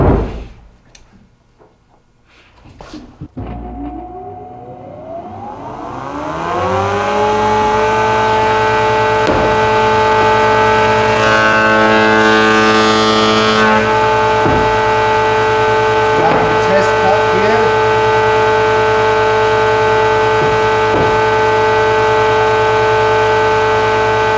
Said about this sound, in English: I'm just going to turn the machine on.